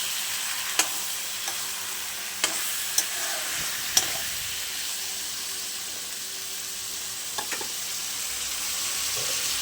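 Chicken curry frying in a pan with water just added, a steady soft sizzle running throughout, broken by a few sharp clicks and scrapes of stirring.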